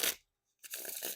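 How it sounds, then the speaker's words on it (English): Riffle shuffle of an Emperor deck of playing cards: a short papery burst, a brief gap of silence, then a longer steady rustling flutter as the cards riffle together, close and fairly quiet. "So not bad riffle shuffles"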